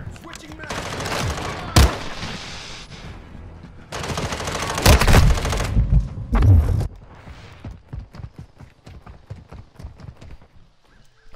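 Modern Warfare 2 gunfire: loud, close bursts of rapid automatic shots in several volleys, then a trail of quieter scattered single shots fading into the background.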